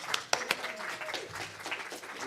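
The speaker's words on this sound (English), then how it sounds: "let's give them a big round of applause" Audience applause welcoming performers back onto the stage: a short burst of clapping from a modest crowd, starting with a few sharp claps and then settling into a steady patter as a voice talks over it.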